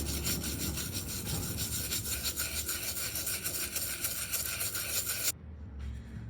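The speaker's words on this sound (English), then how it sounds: "you're gonna get your level 3 brush, formula, and scrub away the tough stains" A brush scrubs cleaning formula into the mesh of Air Jordan 11 sneakers, making a steady, close, bristly rubbing that runs continuously for about five seconds and then stops abruptly.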